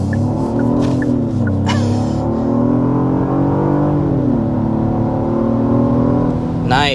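Engine of a Genesis GV80 Prestige, rated at 391 pound-feet of torque, pulling hard under acceleration, a steady close rising drone that holds throughout and swells slightly near the end.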